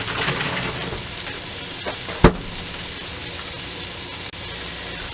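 Onions sizzling in a frying pan for a vegan lunch, a steady broadband hiss holding evenly throughout with one brief sharp clack in the middle.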